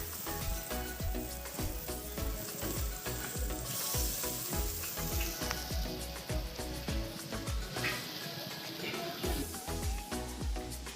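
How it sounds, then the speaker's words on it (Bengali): Lentil fritters made from mashed dal with salt, turmeric and green chilli frying in hot oil, with a steady close sizzle and bubbling broken by frequent soft taps and stirs. "বড়াগুলো ভাজা হয়ে গেছে"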